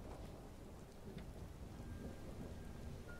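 Steady rain pours in the video game Skyrim, with a low rumble of thunder rolling beneath the hiss throughout and no voices.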